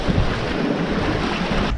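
Strong wind blows across open water during shore bass lure fishing, a loud steady roar of buffeting gusts on the microphone with no talk.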